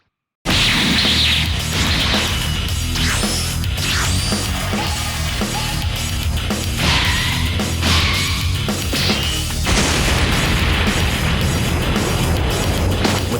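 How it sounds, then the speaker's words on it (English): A chaotic burst of blasts, crashes and whooshing impacts with sweeping tones, loud and continuous throughout, like a powerful explosion amid anime battle effects from a Dragon Ball fight between Vegeta and Nappa. "With that powerful explosion, Kakarot shifts his location"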